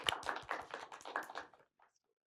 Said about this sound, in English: Let's get a round of applause for Richard.